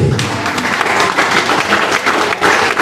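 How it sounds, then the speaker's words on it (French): Applause from an audience at the inauguration of a renovated chapel in French Guiana, a dense burst of clapping with scattered louder claps, continuing steadily throughout. "Je vous demande d'applaudir cette initiative"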